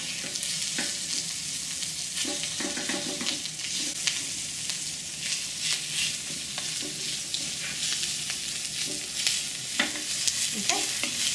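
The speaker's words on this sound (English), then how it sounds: "Now I'm going to put it back onto the flame and just really cook that meat through" A small rabbit liver fries in a pan over an open flame, with dense continuous sizzling close up and irregular bursts of spitting and scraping throughout.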